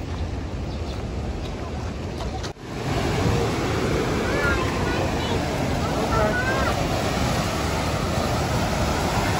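Waves break at Balangan Beach in Bali in a continuous close rush of surf with wind noise, briefly cut by a handling bump, and faint distant voices audible under the wash.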